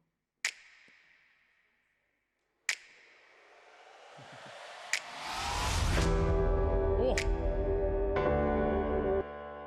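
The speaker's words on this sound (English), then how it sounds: "That's a good riser sound" A riser sound effect plays from a laptop at a live music contest, swelling from a thin hiss into a loud, sustained roar over several seconds, after a few sharp clicks.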